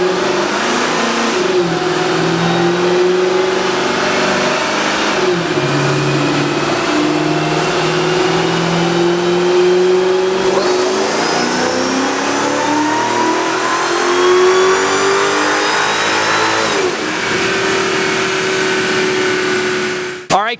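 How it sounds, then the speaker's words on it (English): A Mercedes E55 AMG strapped to a chassis dynamometer howls through a long, loud, sustained full-throttle pull, pitch climbing steadily, with a brief lift and shift midway before the engine revs on and cuts off sharply at the end. "let's get this thing strapped on to the Speed Inc. dyno and go for our first pull"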